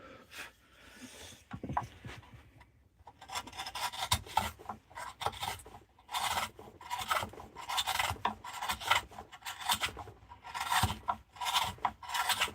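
A steel gouge scoops repeatedly into wood while a bowl is carved by hand, giving a steady series of close, raspy scraping strokes with brief pauses between them.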